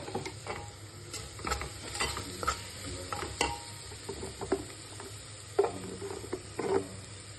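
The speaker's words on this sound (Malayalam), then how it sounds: "ഇത്രയിട്ട് നല്ലതുവണ്ണം ഒന്ന് ഒന്ന് ഇളക്കി കൊടുക്കാവേ" Beef curry with turmeric and pepper powder stirred in a pan: quiet, irregular scrapes and soft clicks of a spoon over a faint low sizzle, with no talk.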